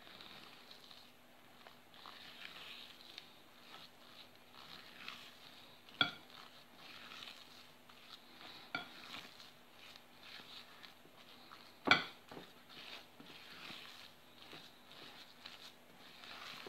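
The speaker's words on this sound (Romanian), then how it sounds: "Și o să amestecăm așa încet, încet, încet, să incorporăm totul." A spatula gently folds whipped egg-white meringue into cocoa cake batter in a bowl, soft quiet swishing with occasional sharp taps against the bowl, close and faint.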